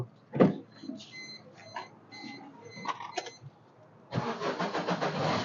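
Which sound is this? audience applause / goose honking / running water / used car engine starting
used car engine starting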